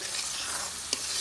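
Quail meat frying in a pan, a steady faint sizzle with one brief scrape of a spoon stirring near the end.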